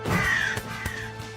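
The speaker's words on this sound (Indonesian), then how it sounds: "Arthur dikagetkan dengan seekor gagak." A crow caws loudly and close by inside an upstairs room of a house, a harsh drawn-out call followed by a few shorter sharp caws over a faint steady background hum.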